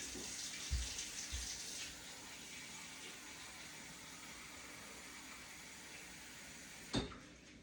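Hot tap water runs steadily into a cup in a quiet room, a soft continuous hiss with a couple of faint knocks near the start and a clunk near the end.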